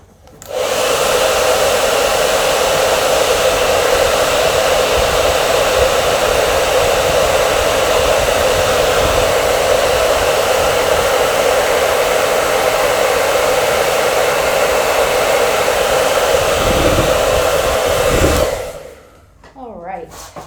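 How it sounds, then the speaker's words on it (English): A hair dryer blows a steady, loud whoosh close up while drying acrylic paint on a canvas, running continuously for about eighteen seconds before switching off. "So let me just use the hairdryer briefly."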